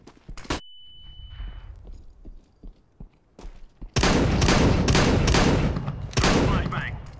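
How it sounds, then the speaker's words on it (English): A flashbang grenade goes off in CS:GO: a sharp pop with a brief ringing whine comes early, then after quieter shuffling the scene erupts into dense, loud gunfire bursts that continue to the end. "Deploying flashbang."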